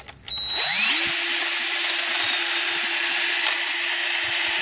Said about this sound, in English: electric drill thing here